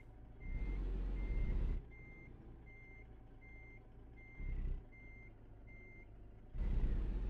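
Truck reversing beeps from American Truck Simulator, a steady run of regularly spaced electronic beeps over a low engine idle, with two louder bursts of engine or air noise interrupting.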